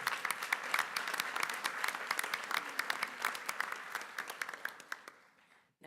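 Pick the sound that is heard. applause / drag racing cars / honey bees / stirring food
applause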